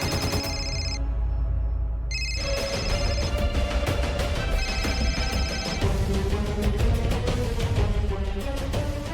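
A telephone ringtone sounds in a Marathi TV drama scene, with steady electronic tones ringing continuously at a moderate, close level and no voices.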